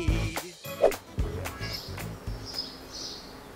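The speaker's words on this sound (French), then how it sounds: "Vous entendez ce petit bruit d'oiseau le matin?" Small birds chirp in the morning with short, bright tweets scattered over a few seconds, mixed with nearby thumps and handling noise at the start.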